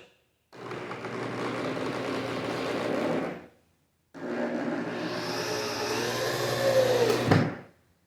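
A power drill drives a screw into a homemade mini boat rod rack in two sustained whirring bursts separated by a short pause, the second rising in pitch and ending with a sharp clunk.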